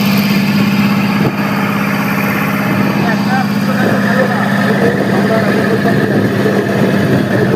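The engine of a motor launch crossing a river to the far bank drones loudly and steadily at close range. Its low, constant throb comes with a mechanical hum.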